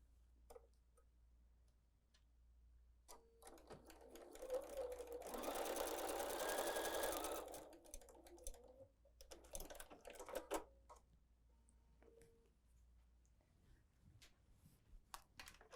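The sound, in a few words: sewing machine stitching a table runner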